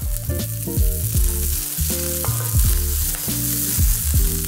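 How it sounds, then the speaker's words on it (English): Garlic and sun-dried tomatoes sizzle loudly in a very hot oiled pan, a close continuous fry broken by repeated sharp metallic clanks of a utensil against the pan. "This garlic's gonna get color almost immediately from the very hot pan."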